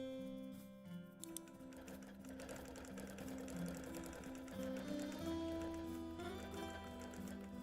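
A longarm quilting machine stitches appliqué with a steady, fast mechanical whirring and tapping hum that runs continuously and shifts slightly in pitch throughout, fairly quiet and close, with no talking.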